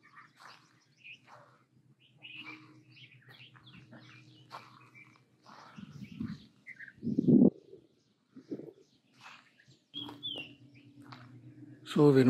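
Scattered bird calls and chirps along a roadside on a route between Hampi and Bangalore, some near and sharp, others faint and distant, rising in short louder bursts over a quiet background.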